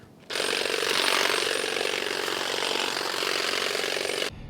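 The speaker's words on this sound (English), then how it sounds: "I think it would definitely go quicker if I put the hedge trimming attachment back on it." A Saker 20v cordless trimmer fitted with its hedge trimming attachment cuts steadily outdoors, a loud continuous buzzing whir that starts abruptly, holds for about four seconds, then cuts off, with no talking.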